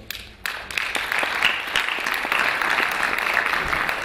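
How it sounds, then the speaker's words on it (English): Applause from an audience at a Delhi Medical Association inaugural session, breaking out after a brief quiet and holding steady as dense clapping with a few louder individual claps standing out. "I request all of you to once again give a big applause to Maharaj for all this he has done."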